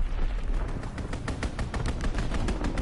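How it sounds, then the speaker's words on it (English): Rapid strafing gunfire from a fighter plane attacking a target in a combat video game, a dense, continuous stream of sharp shots layered over a steady low rumble, loud and close throughout. "Strafing the target."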